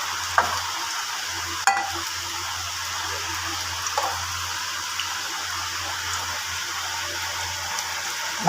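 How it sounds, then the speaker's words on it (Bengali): Karela pakoras fry in oil with a low steady sizzle, broken by a few sharp clicks and scrapes as they are stirred around the pan. "এবারে ধার দিয়ে ঘুরিয়ে ঘুরিয়ে ভেজে নেব।"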